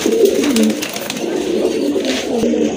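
Pigeons coo amid a bustle of birds, including running female pigeons kept for sale, a steady murmur of low rolling calls near and loud, with no voices over them.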